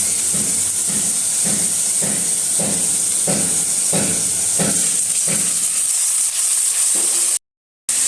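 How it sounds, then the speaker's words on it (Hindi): Eggplant frying in oil in a pan gives a loud constant hiss with a regular rhythmic scraping of stirring about every half second, close up and without talk, ending in a brief cut to silence. "ये अच्छे से फ्राई हुई बैगन तेल में"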